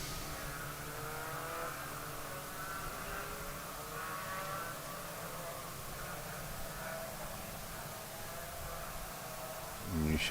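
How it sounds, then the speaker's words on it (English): Race car engines drone faintly in the distance at Sebring racetrack, a low steady hum of motors circling with slight pitch shifts, growing a little louder right at the end. "And we hear the motors coming up."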